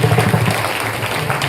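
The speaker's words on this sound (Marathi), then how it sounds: "तुमची भरगच्च जोरात टाळी द्या" Audience at a kirtan for the 121st birth anniversary celebration of Paramhansa Ramkrishna Mounibaba breaks into dense, loud clapping that fills the whole short moment without pause.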